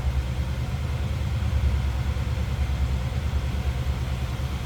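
A 1975 Oldsmobile Delta 88 Royale convertible runs at a stock idle, heard from behind the car, a steady low rumble of exhaust with no voices.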